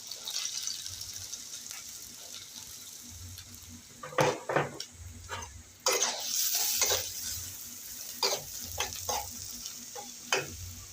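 Chopped onion frying in oil in a pan, with a steady soft sizzle under repeated scraping and clattering strokes of a spoon stirring against the metal, close and irregular.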